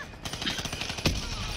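CUDA machine gun in Black Ops 3 firing a continuous rapid rattle of shots, with a sharper loud blast partway through, against dense battle noise.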